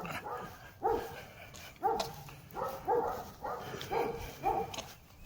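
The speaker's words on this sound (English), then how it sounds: "now they're barking at somebody else" Dogs out on a walk bark at a passerby, a run of about six sharp, close barks at a roughly even one-per-second rhythm over low outdoor background noise.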